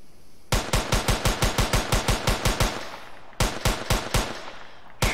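Rapid automatic gunfire in an Unreal Engine 4 shooter game, one loud sustained burst of about a dozen and a half sharp shots, then a pause and a shorter second burst, alone with no talk.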